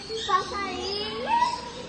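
Small birds chirping inside an animal shed, thin high chirps and a rising whistle, close but light, mixed with faint background chatter from children.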